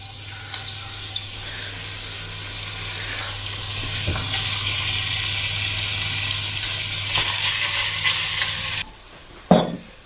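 Beef browns in hot oil in a pot for a slow-cooked stew, giving a steady broad sizzle throughout with occasional stirring clatter, ending in a brief sharp knock after the frying noise cuts off.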